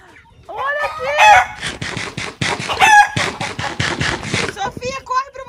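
Backyard chickens cluck and squawk in busy overlapping bursts while a rooster crows near the start, close and loud, with excited talking mixed in.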